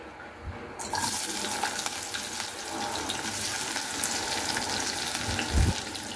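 Chopped onion drops into hot oil and sets off a sudden loud sizzle that holds steady, with a dull knock near the end.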